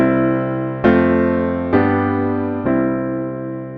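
Sustained piano chords change three times in a slow progression, each new chord struck firmly over a deep bass note and left to ring.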